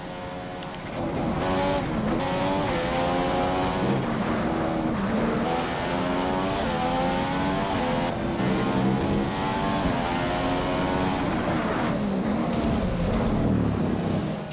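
F1 race car engine from the F1 2015 game running steadily while driving over grass, a loud continuous buzzing whine with rising and falling pitch as the revs shift, close and without talk.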